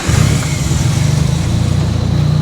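A JDM car engine runs loud and close, a steady throaty idle with a slight lift in revs, filling the whole moment without voices.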